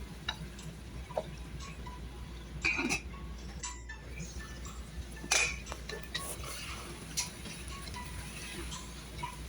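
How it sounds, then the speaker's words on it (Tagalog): A spoon stirs kaldereta with cooking cream and fresh tomato in a pan, giving intermittent clinks and scrapes against the metal over a steady low kitchen background, with a few sharper knocks partway through. "halo-haloin natin"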